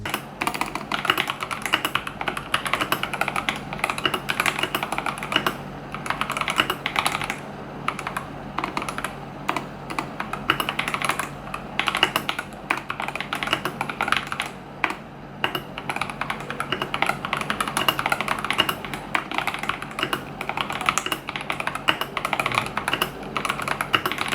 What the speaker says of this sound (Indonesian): Dan soal suara typingnya bagaimana, kalian bisa dengar suaranya sebagai berikut.